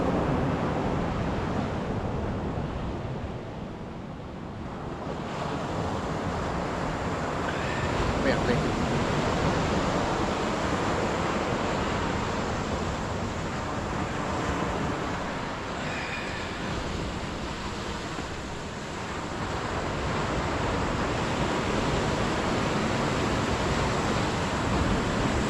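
Strong ocean waves crash and surge in a constant broadband roar, swelling and easing in slow cycles with wind buffeting the microphone throughout.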